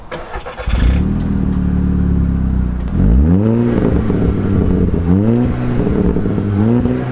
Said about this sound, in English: Let's just start the engine.